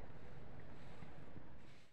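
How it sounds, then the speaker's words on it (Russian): Cold northern wind blows outdoors on a frosty, icy day at minus three degrees, a steady, loud broadband rush buffeting the microphone for the whole two seconds with no voices. "Ветер северный, такой холодный,"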